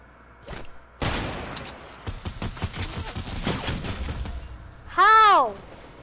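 Rapid, dense bursts of spammed gunfire in a video game, loud crackling volleys spread across several seconds, followed by a short bright rising-and-falling electronic tone near the end.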